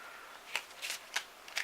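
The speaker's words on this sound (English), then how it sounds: "let's go ahead and shuffle this up real quick" A deck of board-game cards being shuffled by hand, a few short riffling bursts in quick succession, close and crisp, with no talk over them.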